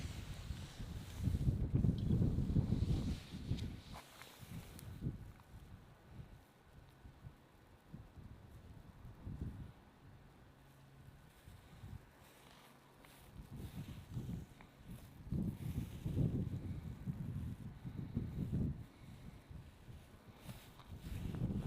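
Gusting wind on the summit of Kilauea volcano on a frozen morning, buffeting the microphone in low rumbling surges that swell and fade over time, with faint voices in the background.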